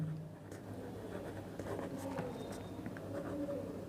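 Faint scratching of a pen writing out a class 12 maths solution on continuity, soft irregular strokes close up and quiet throughout.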